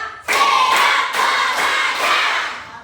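A group claps in counted rhythm, a sharp onset followed by a few loud, roughly evenly spaced clap bursts blending into a dense crowd clatter.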